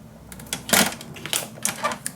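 A paper trimmer slides and clicks through scrapbook paper on a tabletop, making a few short, crisp scraping ticks close by with quiet gaps between them.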